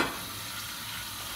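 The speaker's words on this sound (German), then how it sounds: "jetzt ist unsere Pfanne auch schön warm und dann geben wir jetzt unser Hühnchen in unser Wok rein." Chicken sizzles and crackles in a hot wok as it is stirred, a steady, close, continuous frying hiss throughout with no talking.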